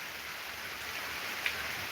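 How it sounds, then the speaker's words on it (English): Soft, steady rain falls by a lake on a Monday morning, a faint even hiss with no voices and a single small drip standing out near the end. "There's rain coming through, cleansing the way for this week to be what it needs to be."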